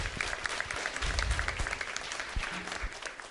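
An audience claps steadily at a Malayalam music gathering honouring a teacher, a sustained, moderately distant wash of applause with no break.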